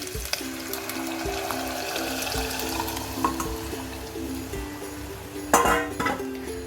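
Boiled dal being sautéed over a low flame in a pot, a gentle steady sizzle with a faint tonal hum and an occasional clink of a spoon against metal.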